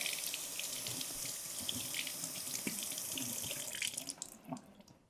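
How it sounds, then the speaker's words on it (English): Tap water runs steadily into a sink, splashing over a cantaloupe being rinsed, close and constant before tapering off at the end. "So I'm just going to rinse this quickly."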